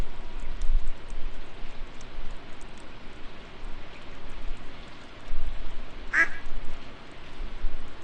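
A duck in the farming video game Stardew Valley gives a single short quack partway through, heard over a steady patter like rain in the game's ambience.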